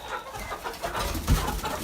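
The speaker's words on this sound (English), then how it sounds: "Last but not least, the chickens." Hens in a backyard coop give soft, scattered clucks and murmurs at close range, with a brief louder rustle or thump partway through and no talk.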